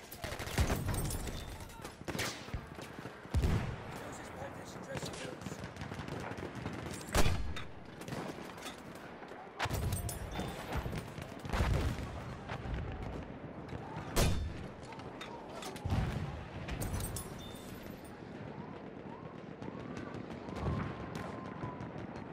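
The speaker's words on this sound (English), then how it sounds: "It's an enemy machine gun!" Enemy machine gun fire in a video game battle, with repeated loud bursts and scattered shots over a busy war din and voices speaking throughout.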